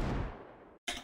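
A Desert Eagle shot from Counter-Strike: Global Offensive, EQ-processed: one sharp crack with a booming decay, then a brief gap and the start of another loud shot, heard on its own.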